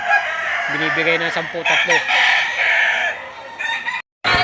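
Chickens and roosters at a live poultry market crow and cluck close by, with a cluster of harmonic calls early on, amid steady market chatter and a voice talking.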